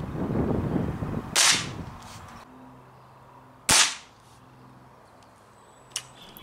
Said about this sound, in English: here's some clips of me shooting the air rifle